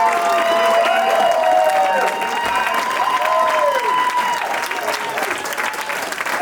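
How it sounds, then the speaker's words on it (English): A comedy show audience applauds loudly and steadily, with cheering and crowd noise mixed in and the clapping tapering slightly toward the end. "You guys are clapping for that"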